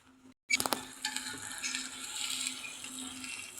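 Scrambled eggs cooking in a home pan, a soft steady sizzle that follows a few clinks of a utensil against the pan and carries on evenly without talk.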